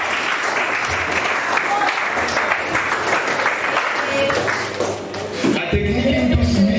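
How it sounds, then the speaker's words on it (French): An audience at a university mock trial applauds with dense, steady clapping from many people, sustained for several seconds before tapering, with some voices mixed in. "Veuillez l'applaudir."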